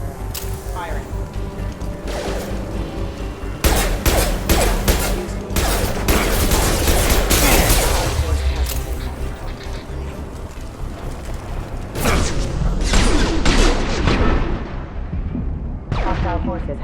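Gunfire in the video game Mass Effect 2: dense, loud bursts of shots and blasts with game music and voices under the barrage, pausing briefly before flaring up again.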